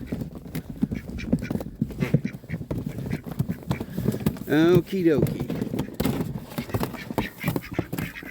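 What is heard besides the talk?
ducks quacking in a corral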